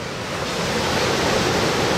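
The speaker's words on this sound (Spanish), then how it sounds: "Esas olas." Ocean waves breaking at a surf spot in Peru make a steady, loud broadband roar of surf with no distinct individual crashes, continuous throughout without speech.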